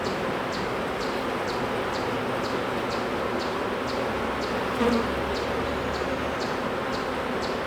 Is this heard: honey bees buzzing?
yes